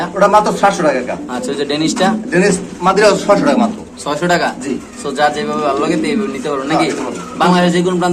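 Pigeons coo repeatedly in soft, throaty rolls close by, overlapping one another in a continuous murmur.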